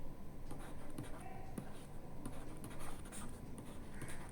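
Chalk or marker scratching on a board as a class 10 quadratic equation is written out, steady faint scraping strokes with soft taps, under quiet room tone and a low voice.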